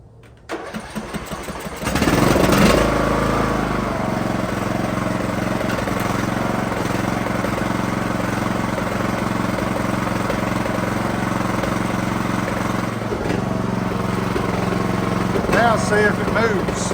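A Craftsman LT 2000 riding lawn mower engine cranks briefly, then catches and settles into a steady, loud, close idle that runs on for many seconds with slight fluctuations.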